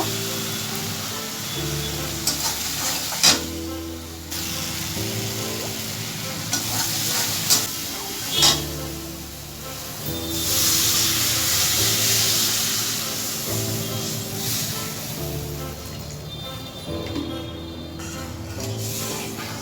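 Morola fish curry cooking down in a pan: a continuous sizzling hiss with repeated louder scrapes and clatters from stirring, a brief swell of spitting steam midway, and a low steady background drone, with no talking.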